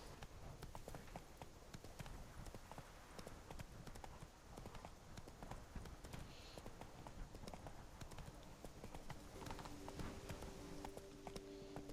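Steady, continuous clip-clop of a horse's hooves at a brisk pace in The Witcher 3: Blood and Wine, rhythmic and close, running without pause through the whole stretch with faint background ambience.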